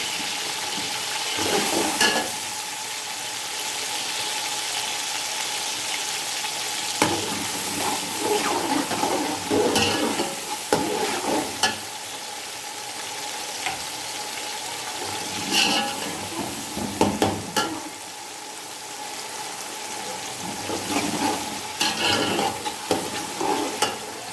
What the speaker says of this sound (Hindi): टमाटरों को हमने अच्छी तरह फ्राई करना है ताकि टमाटर हमारे अच्छी तरह गल जाएं।